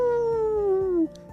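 A person imitates a wolf howl, a single sustained, slowly falling vocal tone that stays loud and close for about a second, then cuts off abruptly.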